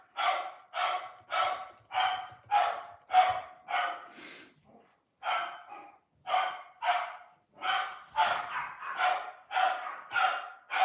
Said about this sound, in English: My dog's barking, sorry.